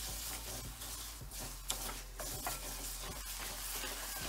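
Raw mango chunda is stirred in a pan over a low flame, giving soft scraping and a faint sizzle with a few light clicks of the spoon against the metal, steady and close.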